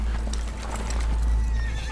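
Horses neigh and whinny while hooves clip-clop, loud and close over a low rumbling background.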